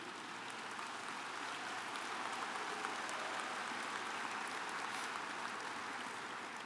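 Audience applause at a large shareholder annual meeting, Berkshire Hathaway 2012, a steady, fairly quiet wash of many hands clapping in a big hall, continuous throughout without any voice over it.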